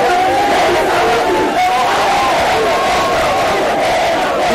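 A dense crowd at a political rally in the DRC for Félix Tshisekedi roars and shouts continuously, loud and close, with voices blending into a sustained wall of cheering.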